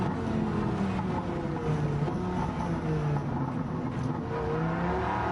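A car engine revs at high RPM, producing a loud, continuous drone whose pitch rises and falls in sweeping waves.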